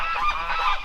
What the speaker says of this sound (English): Those geese are angry.